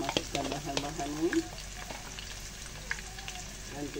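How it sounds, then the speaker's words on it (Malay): Spice paste with kerisik and rendang powder sautéing for chicken rendang in a home kitchen, a steady soft sizzle with scraping stir strokes near at hand, some faint voices in the background. "Kita tumis bahan-bahan ni."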